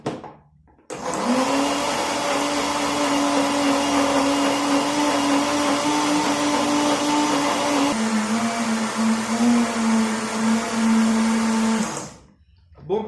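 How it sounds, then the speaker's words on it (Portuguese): An electric blender beats a cocoa mixture for hot chocolate in a classroom kitchen, a steady loud whirring drone that runs continuously for about eleven seconds, its pitch dropping slightly partway through, then cutting off. "Deixe batendo até se tornar uma mistura homogênea."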